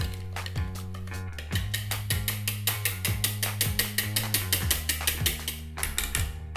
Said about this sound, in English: I'll start with the whisk and just start to mix all this together